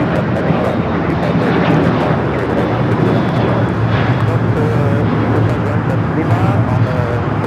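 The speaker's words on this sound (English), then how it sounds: "up next is the Lufthansa A380 Super coming in from Munich" A Lufthansa Airbus A380 arriving at LAX from Munich gives a loud, steady jet roar that stays strong throughout, with people talking faintly beneath it.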